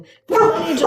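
A pet dog named Rosie barks at home, a loud, sudden outburst cutting in beneath a man's speech partway through and carrying on under his talking.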